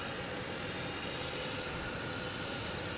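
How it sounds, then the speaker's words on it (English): A British Airways Airbus A380 jet taking off at Logan Airport gives a steady, broad engine roar, heard from a distance at a constant, moderate level with no voices. "That's the A380 British Airways taking off."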